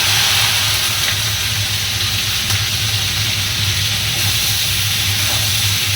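Okra fries in a pan with a steady, loud, close sizzle and hiss that holds evenly throughout, with no talking.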